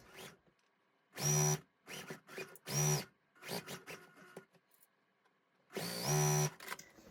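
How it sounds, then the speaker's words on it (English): A sewing machine stitching a row onto a quilt block, running in several short, loud whirring bursts with quiet pauses between them. "And then I'm going to go ahead and sew this row on."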